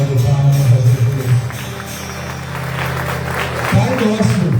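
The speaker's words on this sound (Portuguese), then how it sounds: "Dá uma salva de palmas para Jesus." A congregation at a Mass in a church applauds steadily, a dense wash of clapping that lasts throughout, with a voice speaking and low sung or spoken tones underneath.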